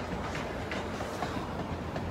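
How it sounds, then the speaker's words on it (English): A train rolls past on the rails nearby, a steady loud rumble with rhythmic clickety-clack clatter throughout, no voices over it. "And there's the train"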